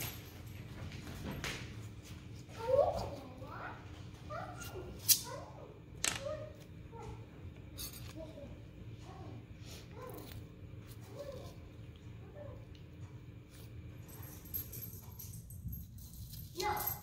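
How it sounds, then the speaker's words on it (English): A puppy indoors gives faint, scattered whimpers and short yips against a quiet room hum, with a few thuds and soft footfalls in between. "Puppy."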